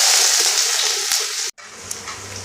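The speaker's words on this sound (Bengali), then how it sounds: "তেলটা এখন ফুটতে শুরু করে দিয়েছে, এর মধ্যে আমরা দিয়ে দেব পেঁয়াজ কুচি" Chopped onion hitting hot oil in a pan, a loud bright sizzle close by that fades slightly, then stops for an instant before a softer crackle continues.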